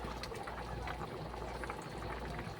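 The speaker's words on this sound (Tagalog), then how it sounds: "Yan, kumukulo na." A pot of chicken broth with bouillon cubes bubbles and simmers steadily at low volume, a continuous soft churning of boiling liquid with no voices.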